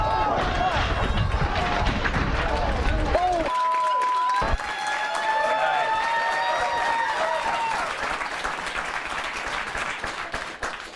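A television studio audience claps and cheers loudly for several seconds, with a brief drop in the middle. The clapping continues under overlapping voices and a short tone.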